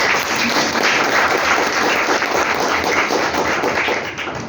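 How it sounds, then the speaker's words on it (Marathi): Steady, dense audience applause during a World Kidney Day gathering, loud and continuous for several seconds before fading slightly at the end, with no talk over it. "मग आता आपण वर्षासाठी एकदा टाळ्या वाजवूया"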